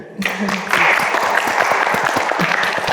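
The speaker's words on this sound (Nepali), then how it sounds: "आफूले ताली बजाउने हो." A studio audience breaks into applause that starts abruptly and continues as steady, full clapping to the end.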